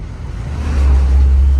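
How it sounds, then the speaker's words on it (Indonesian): A Suzuki Grand Vitara engine with the AC off climbs a hill, its loud, close, low drone swelling and holding steady as the car pulls under load. "ini coba kita nggak pakai AC untuk tes seberapa oke mesinnya ketika normalnya mobil itu bekerja, nanjak-nanjak kayak gitu-gitu"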